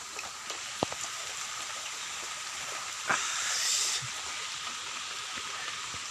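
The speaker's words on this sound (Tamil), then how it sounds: "இன்றைக்கி ஒரு நாள் நல்லா மழை பெஞ்சிக்கிட்டு இருக்குது" Steady rain falls outdoors near a river after hot weather, a soft constant hiss with a few scattered louder drops and one brief swelling surge.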